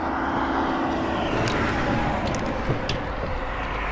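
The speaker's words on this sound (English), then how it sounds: "if y'all hear these cars coming back and forth, we on a busy highway out here in Macon." Traffic on a busy highway in Macon roars past steadily, a dense continuous drone of cars close by with no pause and no talking over it.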